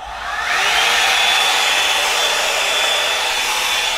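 A Revlon hot air drying brush switches on and quickly ramps up to a loud, steady rush of air with a high whine, continuing evenly to the end.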